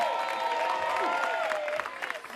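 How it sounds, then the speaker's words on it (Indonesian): Audience at a comic wayang performance claps steadily, a continuous moderate wash of applause heard alone with some tonal background sound mixed in. "tepuk tangan sekali lagi buat Selvi."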